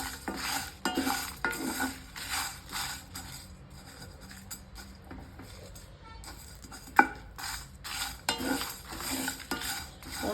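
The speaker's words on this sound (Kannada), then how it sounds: "ಇವಾಗ ಜೀರಿಗೆನೂ ಸ್ವಲ್ಪ ಮೆಣಸು ಬೇಕು, ಮೆಣಸನ್ನ ಹುರಿತೀನಿ" Black pepper and cumin dry-roast in a pan for turkey berry chutney, with a spoon scraping and stirring in irregular bursts, metallic clinks and one sharp knock, fairly close and quiet.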